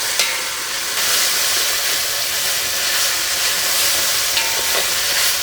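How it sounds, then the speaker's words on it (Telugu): Chopped onions and whole spices frying in oil for a spicy gongura mutton biryani, with an even, close sizzling hiss and occasional stirring scrapes, no voices present. "అలాగే కోసి పెట్టుకున్న ఉల్లిపాయ ముక్కలు కూడా వేసుకుని బాగా కలుపుకుందాం"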